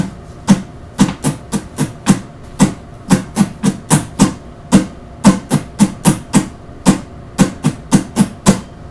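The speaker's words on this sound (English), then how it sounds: "the strumming pattern we're going to use is going to sound like this" Acoustic guitar strummed in a steady, crisp eight-beat pattern, sharp percussive strokes repeating evenly, close and fairly loud with no voice.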